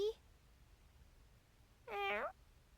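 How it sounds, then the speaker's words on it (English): A cat meows once in the Star Ocean video game, a short clear call rising out of near silence in a quiet scene, with a faint trace of another cry at the very start. "We were just chasing a cat."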